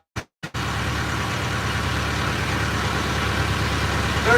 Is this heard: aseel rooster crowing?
no